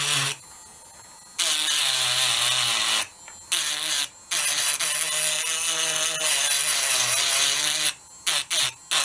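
A small handheld power tool etches away the shell of an egg being carved in Fabergé style, whining steadily and loudly in long runs broken by a few brief stops near the start and end.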